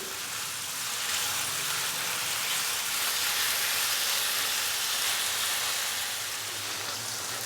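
Chicken pieces frying in a pan over a medium-high flame give a steady, dense sizzle, a broad hiss that holds even and continuous the whole time with no talking.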